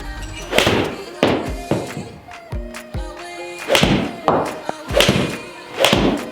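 A Ping Blueprint iron strikes golf balls in a series of sharp, close thumping impacts spaced a second or so apart, with someone talking between and over the hits.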